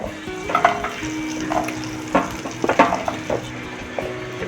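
Raw hard winter vegetables such as cauliflower sizzle in butter with a little white oil, with a steady fry under sporadic stirring clinks and scrapes in the pan, close by and moderately loud, no voices.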